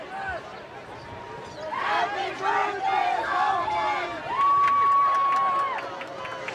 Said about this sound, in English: Not sure if you could hear the crowd there, but they're cheering happy birthday to Logan.